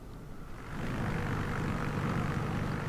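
A small propeller airplane taxis across a runway, its engine a steady, close drone that swells after a brief quieter start and then holds level.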